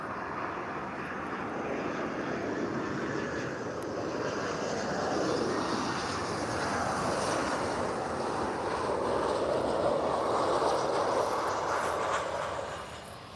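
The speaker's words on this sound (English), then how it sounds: "That's a TAP Express and Embraer now landing" A TAP Express Embraer jet landing at Lisbon, a broad steady engine roar heard from a distance that swells slightly and then fades near the end, with faint wind noise and no voices.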